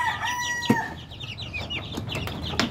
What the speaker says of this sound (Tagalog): sisiw natin na winalay natin sa kanyang nanay